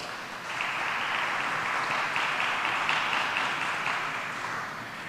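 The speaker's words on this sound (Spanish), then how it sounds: "A los cumpleañeros le felicitamos con un fuerte aplauso." Congregation at a Spanish-language Mass claps for the birthday celebrants, a steady, moderately loud roll of applause filling the whole stretch without speech.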